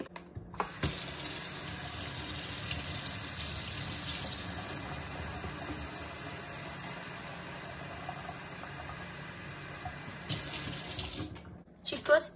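A steady stream of water pours from a tap with cold and hot supply to fill a small bottle, a continuous hissing rush that runs for about ten seconds before cutting off, followed by a faint clunk.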